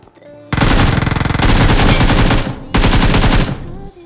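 Rapid automatic gunfire in the mobile battle royale game BGMI (PUBG Mobile) rattles out in two long, very loud bursts separated by a short pause, each a dense stream of shots.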